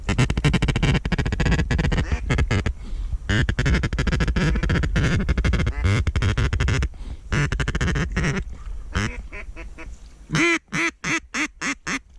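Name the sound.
flock of birds circling overhead, heard from a hunting blind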